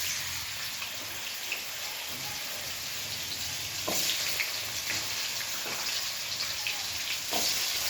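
Carrot frying in a pan, a steady broad sizzle and crackle that holds throughout, with a few louder spattering bursts standing out, no talking.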